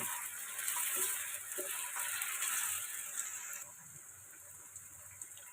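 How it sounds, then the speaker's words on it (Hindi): Meat (gosht) frying in a pot for a handi dish gives a steady, fairly quiet hissing sizzle that eases slightly partway through, with no talking. "कम से कम मैं इसको 5 मिनट मज़ीद फ्राई करूँगी"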